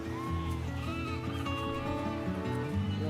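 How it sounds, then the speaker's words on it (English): Sheep bleat in a video game's soundscape, a wavering nasal call laid over dense, steady game music and ambience, moderately loud throughout. "It's a sheep."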